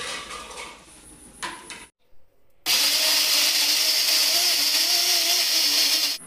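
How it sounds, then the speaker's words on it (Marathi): A mixer grinder purees cooled, fried masala for paneer masala, starting after a few soft kitchen clatters and a brief silence, then running as a loud, steady whir to the end. "हे थंड करून घेऊन याची मिक्सरला प्युरी बनवून घेऊया"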